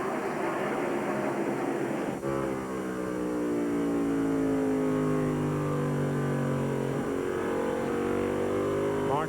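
NASCAR stock cars at the 1998 CMT 300 roar loudly through a corner, a sustained engine drone with a sharp pass-by at about two seconds and a pitch sweeping down, over steady crowd and commentary-level background.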